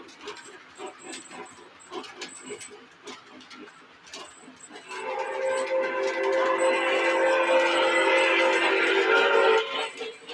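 A model train Mallet locomotive running on a Christmas layout, its rhythmic clicking on track giving way to a sustained, loud multi-tone whistle that holds for several seconds.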